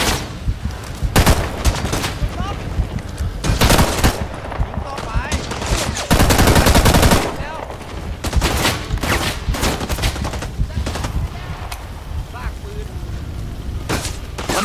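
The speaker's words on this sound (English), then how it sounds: "I'm under heavy fire." Heavy automatic gunfire and rifle bursts in the Rising Storm 2: Vietnam battlefield shooter, with loud dense volleys and scattered shots continuing throughout, some close and booming, others more distant, with faint voices mixed in.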